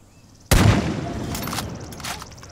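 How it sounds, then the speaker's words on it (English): Gunfire in the video game Far Cry 5: a sudden loud burst of shots erupts after a quiet moment, then rattles on with scattered reports and a lingering reverberant rumble. "And now there's gunfire that's just erupted."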